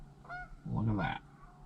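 Geese flying in over a winter river at sunset give several faint, distant honks in quick succession.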